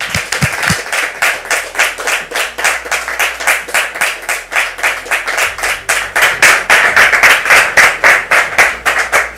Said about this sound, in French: Je vous demande, très cher public, de les recevoir sous vos applaudissements